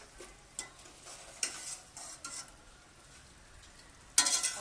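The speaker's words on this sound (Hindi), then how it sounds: "अब हम इसे अच्छी तरह से चलाते रहेंगे" A spoon scrapes and clacks intermittently in a pot of rice masala with green chilies and cinnamon sticks, while a soft sizzle runs underneath and a burst of louder stirring comes at the end.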